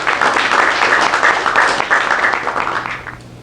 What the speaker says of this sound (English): Give our sponsors a round of applause.